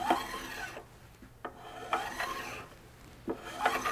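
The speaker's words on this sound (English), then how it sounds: "That's the sound of the file hitting finish." Softer, duller rasping strokes of a file scraping across a guitar's finish, several passes at a steady rhythm, fairly close and quiet.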